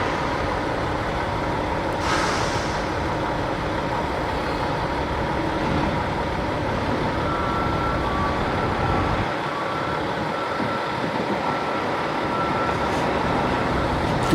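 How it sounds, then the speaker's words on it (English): A forklift engine runs nearby at a truck yard, a steady loud mechanical rumble with continuous hiss throughout, alongside a brief higher burst near the start and passing traffic noise, with no speech. "I hear the forklift"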